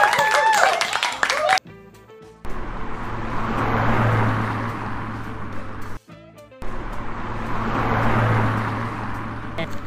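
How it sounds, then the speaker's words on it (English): Clapping for a young girl after she spells a number during a home number-names lesson, a burst of broadband hand claps between about 2.5 and 6 seconds and again near the end, with a voice at the start. "Clap for her."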